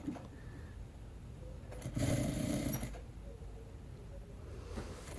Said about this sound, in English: You just sew it this way.